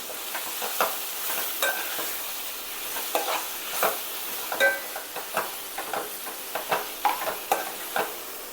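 Crushed ginger garlic paste being stirred into a pan of brinjal curry, a soft continuous sizzle under repeated spoon scrapes and clacks that grow busier toward the end, close and without talk.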